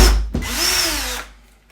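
Cordless power drill boring a hole into the bottom of a door, a single loud close whir that spins up, holds for about a second and winds down.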